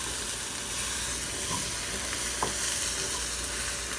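Onions frying in a pan set on a grill, a steady broadband sizzle running the whole time with a couple of faint clinks, no one talking.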